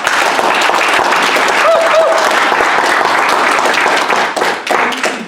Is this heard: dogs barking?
no